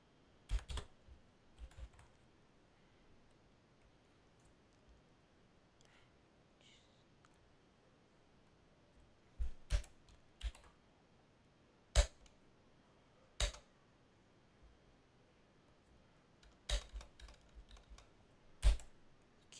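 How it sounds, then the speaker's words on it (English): Sharp, scattered clicks of typing on a computer keyboard, close and crisp, coming in short bursts separated by quiet pauses. "Keyboard, sorry for that."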